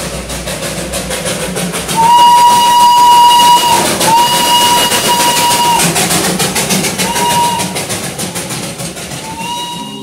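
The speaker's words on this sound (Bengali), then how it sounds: "এবার দেখে নিন হোটেলে বসেই হোটেলের সামনে দিয়ে টয় ট্রেন যাওয়ার দৃশ্যটি।" A Darjeeling toy train rolls past in front of a hotel, its steam whistle sounding in several long, loud blasts over a steady rumble and clatter of the moving cars.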